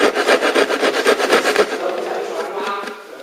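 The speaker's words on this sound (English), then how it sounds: "this piece needs to be removed with the coping saw" Coping saw cutting timber held in a vise: a rapid, rhythmic rasping back-and-forth stroke, close and fairly loud, slowing and fading toward the end.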